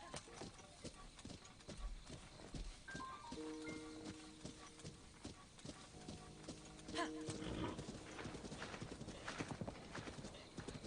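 Horse hooves clip-clop steadily in a Zelda video game as the horse carries its rider along, with a brief whinny, game music tones and occasional talk over the top.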